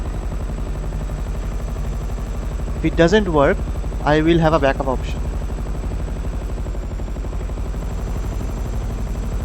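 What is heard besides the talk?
helicopter flying in the video game GTA 5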